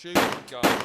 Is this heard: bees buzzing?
no